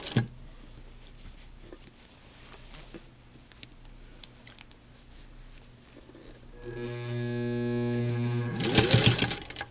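Sewing machine stitching through a six-layer seam allowance on a cuff, a soft ticking hum that swells into a louder steady whir near the end, heard close with some background noise.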